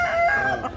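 A Talisayon rooster, a big-bodied gamefowl, crows once, near and clear, in a short strained call with no voices over it.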